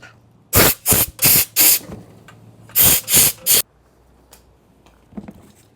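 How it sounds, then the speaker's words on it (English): Compressed air blasts against a small-block Chevy oil pan in short, loud hissing bursts, four in quick succession, a pause, then three more, followed by quiet shop background. "Some of this is coming off even just with compressed air"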